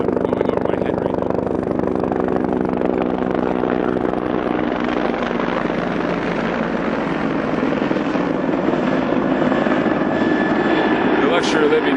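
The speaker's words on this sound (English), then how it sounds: "I've got a helicopter going over my head right now." A military-area helicopter passes overhead, its steady rotor thump and engine roar loud and continuous for the whole stretch, with a person speaking over it.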